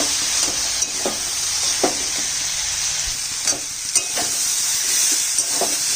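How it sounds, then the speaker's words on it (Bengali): A pan of ground ginger and cumin paste fries with a steady, bright sizzle while a spoon stirs it in intermittent scraping strokes, close and continuous. "জিরা আদা বাটাটা দিয়ে একটু নাড়াচাড়া করব।"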